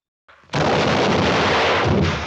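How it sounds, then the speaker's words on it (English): A loud, close gunshot from the Western film Shane. It rings out as a single sustained blast with echo that fills the short stretch, and no one talks over it. "Now, if you watch it, Shane is shot"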